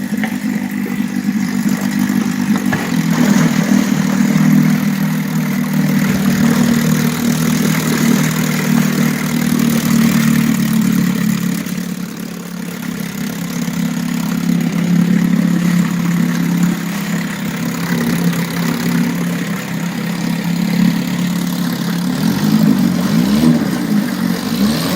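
A 1962 Evinrude 5.5 outboard motor runs continuously at a steady idle, its loud low drone holding throughout with slight shifts in pitch and no talking.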